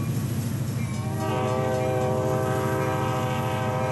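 A train horn in the railway video game Rails Unlimited sounds a long, steady blast over the low rumble and clatter of a moving train, close and loud.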